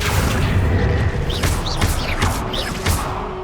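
Spell blasts in the video game Hogwarts Legacy, a series of loud booming impacts and whooshing bursts, about five in quick succession over a dense, continuous background rumble.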